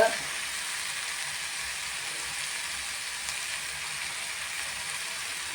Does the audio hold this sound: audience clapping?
no